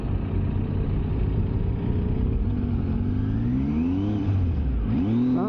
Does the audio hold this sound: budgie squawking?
no